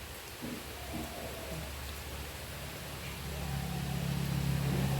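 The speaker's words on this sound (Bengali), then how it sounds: "কেমন বৃষ্টি শুরু হয়েছে সকালে" Steady morning rain falls outdoors, a soft continuous patter that swells slightly louder toward the end, with faint low background hum and no talking.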